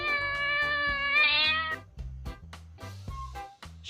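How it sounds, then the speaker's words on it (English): A domestic cat meows a few times, its harmonic cries loud and close over a steady low rhythmic background of music. "cat,"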